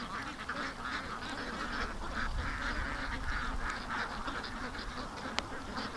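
Ducks on a lake quack in a dense, continuous chorus at moderate distance, with a brief sharper call near the end and no talking.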